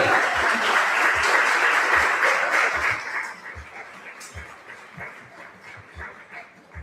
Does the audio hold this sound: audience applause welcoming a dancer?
yes